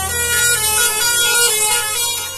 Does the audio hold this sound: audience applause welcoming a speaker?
no